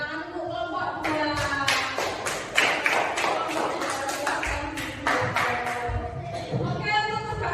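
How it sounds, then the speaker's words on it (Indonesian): A classroom of students claps for a group of classmates, giving a burst of uneven, overlapping hand claps with some tapping and shuffling mixed in, steady and fairly close throughout. "tepuk tangan untuk kelompok 2"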